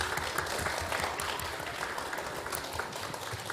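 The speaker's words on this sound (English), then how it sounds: "All right, give the participants a round of applause." An audience claps steadily for beginner spelling bee participants, a dense, even patter of many hands at moderate loudness with no voices over it.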